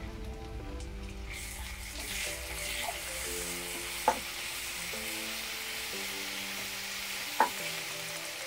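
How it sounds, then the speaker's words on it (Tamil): Onion and tomato sauté with ginger and garlic in a pan for egg curry: a soft, steady sizzle with two sharp spoon clicks against the pan, while gentle tonal music plays underneath. "இது வெங்காயம் தக்காளியும் கொஞ்சம் நல்லா வதங்கட்டும்"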